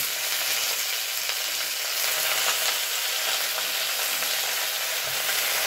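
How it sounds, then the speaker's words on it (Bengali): Chopped pumpkin leaves frying in a hot pan, giving a dense, continuous sizzle that stays even and close throughout with no voices. "এবার আমি কুচনো শাকগুলো দিয়ে দিলাম।"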